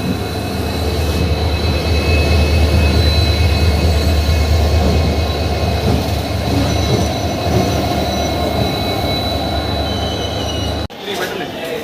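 Loud, steady rumble and rattle of the 12787 Narsapur–Nagarsol express, hauled by a WDP 4D diesel locomotive, heard from inside a coach as it runs on, with a sharp jolt near the end.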